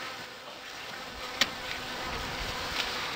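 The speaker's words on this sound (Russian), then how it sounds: "Видите, на меня уже пчелки садятся." Honey bees buzz steadily around a beehive during a spring bottom-board change, with a continuous close drone and a couple of sharper passes near the microphone.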